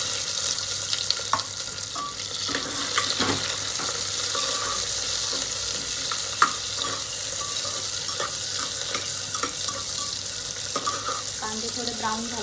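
Chopped onions frying in a pan with cumin seeds for chicken pulav, a steady broad sizzle running throughout with scattered small pops and clinks over a faint low hum.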